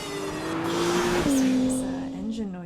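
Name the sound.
Acura car engine at desert test track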